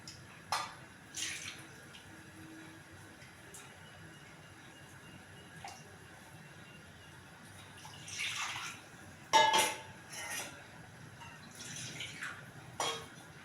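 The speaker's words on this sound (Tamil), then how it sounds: "கொஞ்சம் திக்காக இருக்குது, கொஞ்சம் தண்ணி ஆட் பண்ணி" A quiet kitchen with a couple of brief splashes of water poured into a pot of masala kulambu, and scattered light clinks and taps in between.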